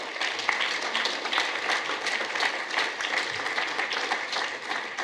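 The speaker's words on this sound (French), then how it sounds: "On peut les applaudir." An audience at a national Responsible Care trophy award ceremony applauds in a steady, dense wash of clapping that holds evenly for several seconds.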